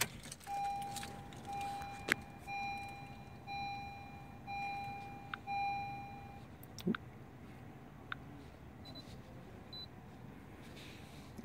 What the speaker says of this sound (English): I'm gonna turn ignition on.